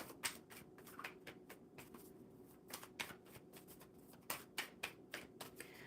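Tarot cards being shuffled by hand, a rapid series of crisp riffling flicks and soft slaps in irregular bursts, close and fairly quiet with no talking.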